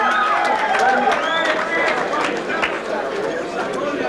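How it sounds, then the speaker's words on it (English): A crowd cheering and calling out at a welterweight boxing match as fighter Rick Edson of Laconia, New Hampshire is introduced, a noisy, continuous mix of shouts and whoops under an announcer's voice. "Sounds like he has a little cheering section over there"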